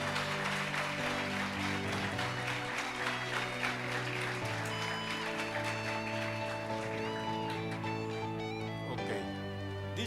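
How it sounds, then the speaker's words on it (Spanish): Applause from a church congregation mixed under sustained keyboard or organ chords with deep bass notes. The clapping forms a continuous wash of hands beneath the steady music, without a clear pause. "vamos a brindar un aplauso al Señor"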